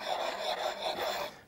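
Grinding stone rubbed back and forth on a flat test plate, a close, steady gritty scraping that rises and falls with each stroke, heard alone.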